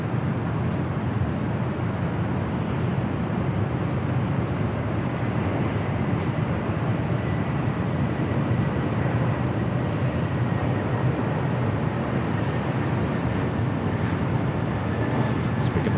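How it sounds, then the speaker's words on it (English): United Boeing 787 Dreamliner taxiing toward runway 25 right at LAX, a steady broad jet rumble at moderate distance, unbroken for the whole stretch. "The United Dreamliner rolling down to 25 right."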